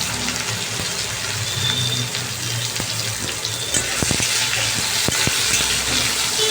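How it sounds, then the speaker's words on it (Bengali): Potatoes, tomatoes and green chillies fry in a pan with a steady, close sizzle, broken by a few sharp clicks of stirring near the end. "এগুলোকে আমি এখন একটু ভালো করে ভাজা ভাজা করব।"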